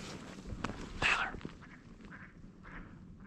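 A hen duck quacks outdoors during a snowstorm duck hunt: one sharp, close quack, then a few fainter calls over a soft background hush, with no speech.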